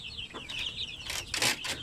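A mother hen of the shamo aseel breed, kept with her 16-day-old chicks, gives short soft clucks and a few sharper bursts, with brief rustling like flapping wings, close by and with no talk over it.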